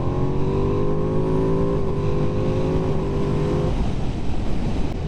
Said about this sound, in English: That was the awesome induction noise this bike's got.